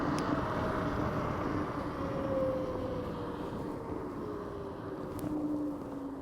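An Inmotion RS electric scooter accelerating on a twist throttle: a soft electric motor whine that rises gradually in pitch over a steady low wind rumble, faint and continuous, with no talking.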